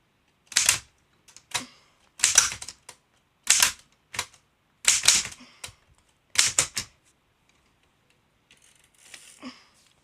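A typewriter clatters in about six quick bursts of sharp key strikes, each followed by a brief pause, close and crisp, with a faint softer rustle at the end.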